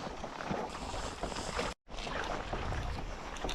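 A canoe paddled north toward a small Arctic island on calm water, a steady wash of water and wind noise with a brief dropout midway, no talk.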